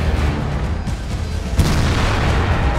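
A tank gun fires in World of Tanks, heard as a loud, dense boom that swells into a heavy rumbling blast midway and keeps roaring on to the end, with no voices.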